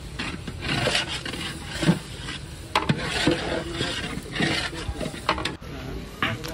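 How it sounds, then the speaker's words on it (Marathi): Garlic paste is worked into a huge pot of dal mundi for 500 people cooking over a wood-fired chulha, with repeated scraping, rubbing stirring strokes and soft knocks in a steady, uneven rhythm. "7 चम्मच त्याच्यात आता लसूण पेस्ट टाकले, आणि तो आता विशाल एकजीव करून घेतोय।"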